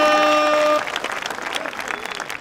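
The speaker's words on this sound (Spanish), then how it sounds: "¡Aplausos para ustedes!" A crowd applauds at a Halloween costume contest on a comedy game show, loud steady clapping that follows a sustained musical tone and fades somewhat toward the end.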